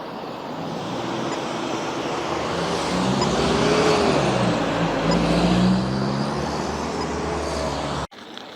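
Steady highway traffic roars past beside a field, cars rushing by in a continuous swelling wash of road noise that stays loud until an abrupt cut near the end.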